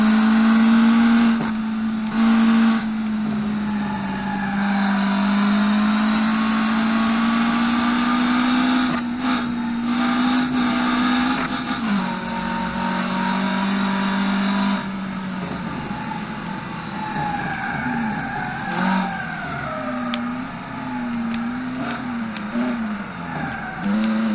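A 1990s supercar from the racing game Automation revs hard on a track, its engine note steady and loud, rising and dipping with throttle changes and brief lifts throughout, with no voices over it.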